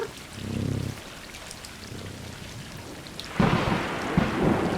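Rain and rolling thunder in the video game Stray: a low thunder rumble swells and fades early, then steady rain patters on surfaces and grows heavier and louder near the end.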